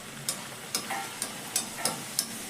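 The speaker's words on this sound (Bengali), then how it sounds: "তোমাদের ঝটপট আবারও একটা ভেজে দেখিয়ে দিচ্ছি" Rice balls made from leftover cooked rice fry in oil, giving a light, continuous sizzle broken by regular crisp ticks and taps from stirring roughly every half second, close and fairly quiet, no voices.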